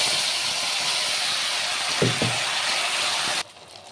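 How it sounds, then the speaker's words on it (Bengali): Whole cumin, bay leaf, whole garam masala and spice paste fry in hot oil for a Bengali dish, making a steady, loud, close sizzle. Two soft low thumps land midway, and the hiss cuts off sharply near the end. "আমার দিকে তেল গরম হয়ে গেছে, তাহলে পোড়নে দিব আমি এখন গোটা জিরা, তেজপাতা, আর আছে গোটা গরম মশলা।"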